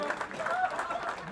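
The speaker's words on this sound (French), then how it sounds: "Merci de l'applaudir encore." A crowd at a cycling race in Fourmies applauds Olympic champion cyclist Elia Viviani, a steady patter of clapping with some cheering, moderately loud and fairly close.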